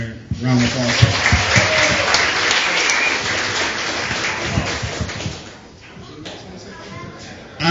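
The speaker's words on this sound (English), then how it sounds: "So let's give them a round of applause." Wedding guests applaud the couple's families at a reception, with clear, lively clapping close by, some chuckles and voices mixed in, tapering off toward the end.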